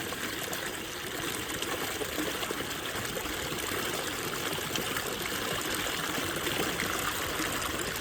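Steady broadband rush of running irrigation water flowing into a chickpea field, continuous and fairly close, like water flowing and splashing into a channel with no pauses.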